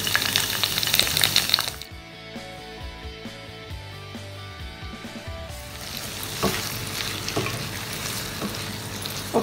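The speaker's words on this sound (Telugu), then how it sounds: "ఒక 1 మినిట్ కి ఫ్రై అవ్వాలి।" Red bell pepper (capsicum) pieces frying in about two teaspoons of oil, with a loud, steady sizzle that drops into quieter crackles and stirring clatter midway before the hiss builds again.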